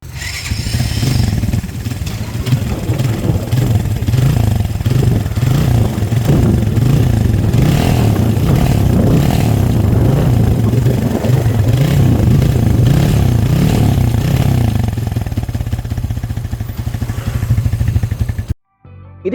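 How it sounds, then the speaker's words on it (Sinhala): Ceygra 200 motorcycle with a stock silencer idling steadily close up, its exhaust note a deep, even throb with light mechanical clatter throughout, cutting off abruptly near the end. "අපි පොඩ්ඩක් එක්ටෝස් නෝට් එක අහලා බලමු."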